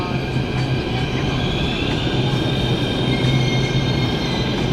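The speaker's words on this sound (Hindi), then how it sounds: "हमारी मेट्रो आ गई है आफ्टर सो लॉन्ग" A crowded metro train pulls into a station platform, its steady rail rumble and wheel noise filling the scene continuously and fairly loud, with a low hum and faint squeals throughout.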